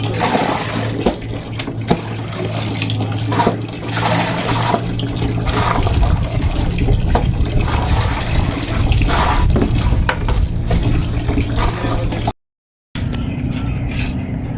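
Water pours steadily into containers being filled for storage at a house construction site, making a continuous rushing, splashing flow with a low hum underneath, broken by a brief silence near the end.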